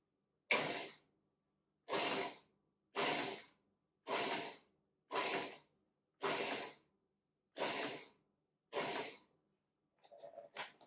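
Food processor pulsing a mushroom and black bean burger mix: eight short, loud bursts spaced about a second apart with silence between, then a fainter rattling at the end.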